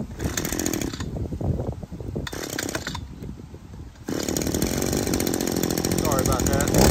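Echo HCA-2620 articulating hedge trimmer's small two-stroke engine running loud and close, a buzzing drone that dips and swells with throttle changes before holding a steady high rev, with talk over it.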